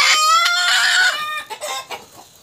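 A village hen clucks and squawks loudly up close as she is held and placed on eggs to brood, a drawn-out cry followed by a few shorter clucks, with no talk.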